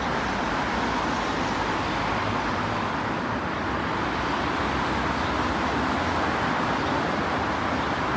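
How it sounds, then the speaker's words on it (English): Steady roar of cars driving along a street in Romania, a constant broadband traffic wash with no gaps, fairly loud and close throughout. "the noise of these cars"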